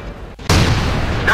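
A single loud, sharp blast from an AMX 50 120 tank's cannon in World of Tanks bursts in after a brief lull, its heavy boom ringing on through the rest of the moment.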